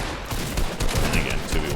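Gunfire from the video game Fortnite crackles in rapid, overlapping shots over a brief moment, loud and dense, with a voice talking underneath.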